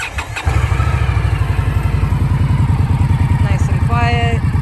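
A 2018 Indian Scout Sixty motorcycle cranks and fires up, settling at once into a loud, close, evenly pulsing idle, while a person talks briefly near the end.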